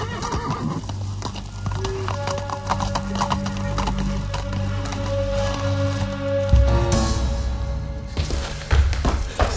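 Horses neighing and clip-clopping over a busy, loud backdrop of music, as riders set off on horseback, with hoofbeats and whinnies continuing throughout and a louder burst near the end.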